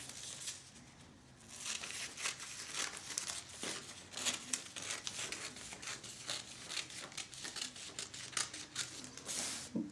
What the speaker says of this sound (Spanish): ya solo nos falta recortar nuestro patrón. Así que vamos a recortar esta parte